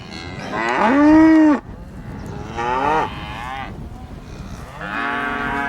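Cows in a field moo loudly and close by, three long drawn-out bellows separated by short pauses, with quieter background rustle between them.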